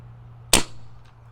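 A single sharp crack from an air gun pumped six times and fired without a silencer, loud and close against a quiet steady hum, with a faint echo trailing off.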